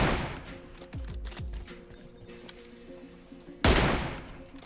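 Gunfire in the mobile game PUBG Mobile, likely an M24 rifle: a quick burst of sharp shots early on, scattered softer reports, then one loud crack near the end, with no talk over them.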